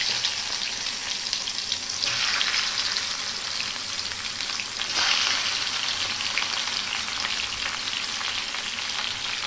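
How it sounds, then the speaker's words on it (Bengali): Panch phoron spices and mango pieces sizzling in hot oil for mango pickle, a steady close frying hiss with a brief surge as pieces are dropped in around the middle. "তেল গরম হয়ে গেছে এবার একটু পাঁচ ফোড়ন আর দিয়ে ফোড়ন দিলাম দিয়ে এবারে আমগুলো এক এক করে ফেলে দেবো"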